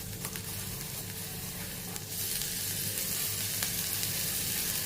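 Cumin seeds and grated ginger fry in oil in a kadai with a soft, steady sizzle. The hiss grows slightly louder partway through and continues evenly, with no talking.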